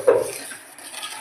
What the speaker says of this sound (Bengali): চালটাকে ভালো করে মিশিয়ে নিল